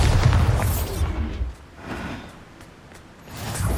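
A Bombarda explosion spell going off in Hogwarts Legacy: a loud, deep booming blast right at the start that trails off into a rumbling decay, with a softer swell of noise returning near the end.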